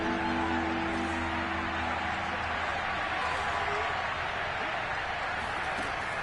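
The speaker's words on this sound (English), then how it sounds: "The crowd getting into it as we come up on a big third down." Football stadium crowd roaring steadily ahead of a big third-down play, a dense, sustained wash of cheering and noise heard at a distance with a commentator talking over it.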